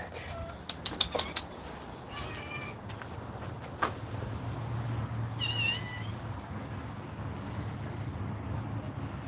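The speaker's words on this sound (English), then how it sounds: "the cats have been goofing up with all the crab gear" A cat meows a few times, brief and mid-distance, against steady wind and water noise from a boat area with crab gear, with light clatter early on.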